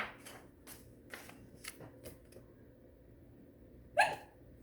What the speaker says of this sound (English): His hiccups are back.